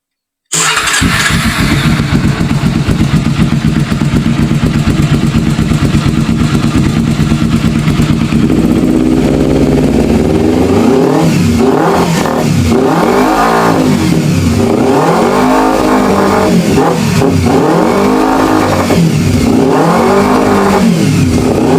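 A carburetted Kawasaki Ninja 250 motorcycle engine starts and runs loud and close, with a rough idle at first, then repeated rhythmic revs rising and falling in regular bursts.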